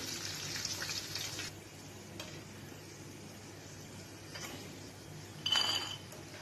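Peanut pakoras sizzle quietly in hot oil, giving a soft, steady crackling hiss with brief louder bursts of spattering when they are stirred.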